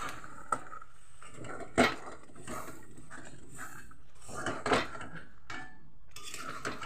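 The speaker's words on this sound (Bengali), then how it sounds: "একটু জল দিয়ে আগে ভালো করে নেড়ে চেড়ে নেব।" Fish curry stirred in a pan after water is added, with a few clear scrapes and clinks of a spoon against the metal and soft sloshing between them. No one speaks.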